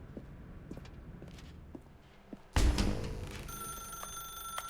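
A telephone rings out loudly and abruptly in The Stanley Parable video game, a sharp bell tone with sustained ringing overtones, preceded by quiet footsteps in a dark room.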